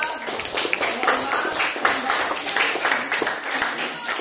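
Students in a classroom clap for group 3 during a teaching-practice lesson, a brisk patter of hands at moderate volume with a voice talking over parts of it.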